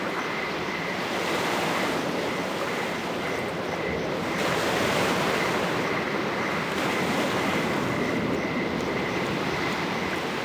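Sea waves at high tide in the game NiBiRu roll in as a continuous dense wash of surf noise, steady and loud throughout, with slow swells in intensity and a faint thin tone running beneath.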